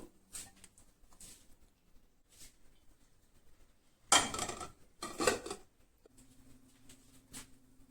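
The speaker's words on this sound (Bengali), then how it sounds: "চুলায় হাঁড়ি বসিয়ে দিয়েছি তেল দিয়ে দেব" Two loud metallic clatters, about a second apart, as a cooking pot knocks onto a stove burner, with quieter clinks and shuffling before and after.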